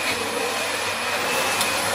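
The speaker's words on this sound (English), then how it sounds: "That's my good lady with the vacuum" A vacuum cleaner running indoors, a loud, constant whining roar with a steady high tone, close by and continuous throughout with no talking.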